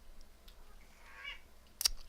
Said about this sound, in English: That's my cat. Don't mind him.